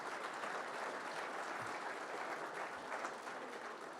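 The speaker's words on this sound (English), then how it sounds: "Let's give all of them a round of applause just by being nominated." Steady applause from a gathered workplace crowd at a safety kickoff meeting, honoring safety award nominees; sustained, even clapping fills the room from start to finish with no voices.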